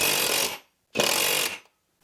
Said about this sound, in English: I usually just use an impact,